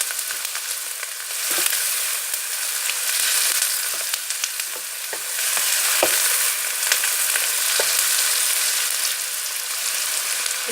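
Sliced onions frying in oil in a pan, browning for a fresh bhindi with green chilli dish: a steady, fairly loud hiss of sizzling with occasional sharp crackles and pops, with no talk over it.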